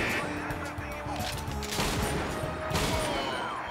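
Gunshots in the arcade sniper game Silent Scope on Sega Dreamcast, sounding as repeated sharp bursts over game music, with a louder crack near the end.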